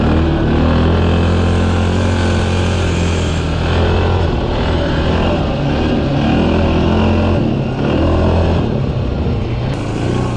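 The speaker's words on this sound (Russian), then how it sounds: "Эндуро на квадроцикле." A quad bike engine roars continuously while riding enduro, loud and close, its pitch rising and falling with the throttle throughout.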